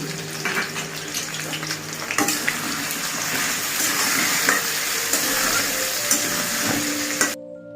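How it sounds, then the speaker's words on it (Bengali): Potato pieces with turmeric, red chili powder and a little salt fry in a pan, a strong continuous sizzle with stirring scrapes and spatters, loud and close, stopping abruptly at the end. "আলুতে সামান্য নুন দিয়ে আলুটা ভেজে নিই"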